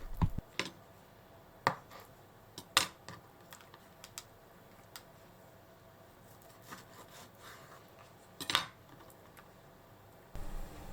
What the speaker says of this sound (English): Start by cutting the yellowtail slices in half.